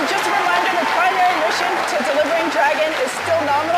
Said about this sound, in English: what you're hearing now is the crowd reacting to confirmation that the re-entry burn has begun